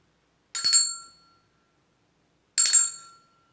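Two clear strikes of a small bell, each ringing briefly and decaying, separated by a pause of silence.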